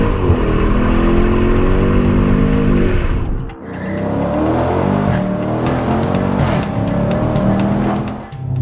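A 2016 Dodge Challenger Scat Pack Shaker revs hard, its engine note climbing in a loud rising sweep, cutting off abruptly, then roaring again through several sustained pulls up close with no talking.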